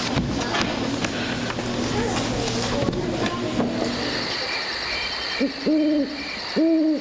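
An old hoot owl hoots in a school drama play, with two or three clear, fairly close hoots near the end, each with a rising and falling pitch, following a stretch of busy stage noise and voices.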